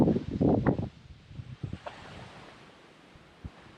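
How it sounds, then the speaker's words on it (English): Wind gusts outdoors, a strong rumbling buffet at first that drops to a steady, softer breezy rush with occasional low thumps on the microphone. "Like, see, right now the wind is there"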